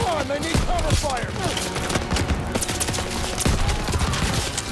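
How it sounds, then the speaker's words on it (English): Dense suppressive fire in the shooter Call of Duty WWII, with loud rapid gunshots overlapping in a continuous barrage and layered battlefield noise throughout. "Suppressive fire."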